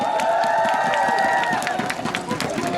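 A baseball stadium crowd applauds for a player after a Nexen Heroes versus Hanwha Eagles game, with dense rapid clapping and crowd noise. A sustained tone rides above the clapping, which fades slightly toward the end.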